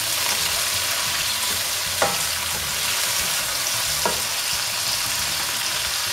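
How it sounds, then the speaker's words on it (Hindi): Chicken liver fries with ginger garlic paste in a pan, a loud, dense, continuous sizzle with two brief scraping stirs, close by and with no talking. "इसको अच्छी तरह से हमने फ्राई कर लिया है, इसके अंदर ये लहसुन अदरक का पेस्ट"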